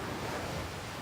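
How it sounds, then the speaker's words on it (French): Atlantic ocean waves roll in as a brief, steady wash of surf noise with wind buffeting the microphone, fairly faint and without voices. "And we have waves coming in from the Atlantic, old waves"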